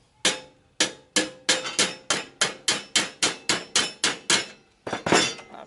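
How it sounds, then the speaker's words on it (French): Sheet metal on a Citroën Traction 11B rear body panel folded by hammer, about a dozen sharp ringing blows at an even, steady pace, close and loud, then a quick double strike at the end. "je vais la replier d'abord au marteau."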